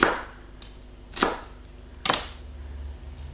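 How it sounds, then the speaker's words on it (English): Three sharp knife chops through onions on a cutting board, spaced about a second apart, close and crisp against a quiet kitchen background with no talk. "I will cut the onions"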